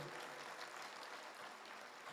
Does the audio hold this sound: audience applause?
yes